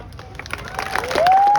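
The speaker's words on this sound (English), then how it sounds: "you deserve a big clap for this one" A crowd at a chainsaw show claps and cheers, a dense spread of applause that builds and swells louder toward the end, with a rising tone sliding in over it.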